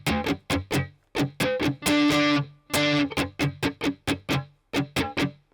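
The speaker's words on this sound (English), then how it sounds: "now we're adding some muted strums" Distorted electric guitar strumming a rhythm, tight choppy bursts of palm-muted strums with a few longer ringing chords, played up close and loud with no talking.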